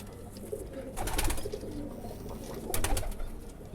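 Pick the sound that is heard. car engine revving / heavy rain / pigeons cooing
pigeons cooing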